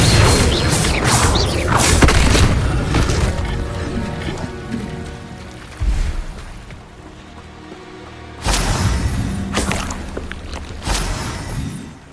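Spell effects in the game Hogwarts Legacy, including the Levioso levitation charm, with repeated sharp magical bursts and whooshes followed by a shimmering sustained wash, loud and close over game sounds.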